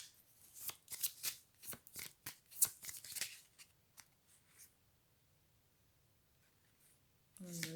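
Playing cards shuffled and drawn at a table, a rapid run of crisp riffling flicks that slows into a few separate snaps, then near silence before a voice briefly begins.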